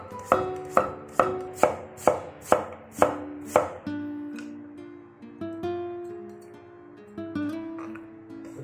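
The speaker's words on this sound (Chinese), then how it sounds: "洗净后，南瓜、山药切片" Pumpkin and Chinese yam sliced with a knife on a board: about eight crisp, evenly spaced chops, then quieter sparse cuts over light background music.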